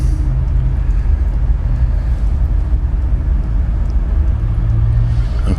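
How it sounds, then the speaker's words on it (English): A truck or car approaches with a low, continuous engine rumble that stays loud and steady throughout. No voices are heard. "I see I've got a truck or a car or something coming."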